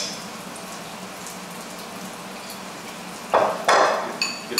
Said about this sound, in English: So we're just gonna mash potatoes